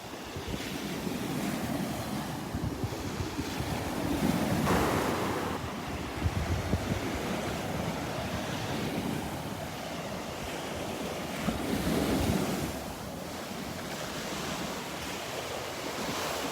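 Rough surf at Delnor-Wiggins beach churns and rolls steadily, with washes swelling and fading under gusty wind buffeting the microphone, no voices present.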